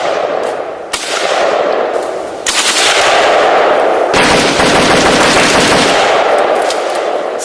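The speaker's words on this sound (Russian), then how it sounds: "Стрельба в школе и вокруг нее не останавливалась." Sustained machine-gun and rifle fire rattles loudly and continuously at a school under siege, dense bursts of rapid shots overlapping with heavier cracks, close and relentless throughout with no voices.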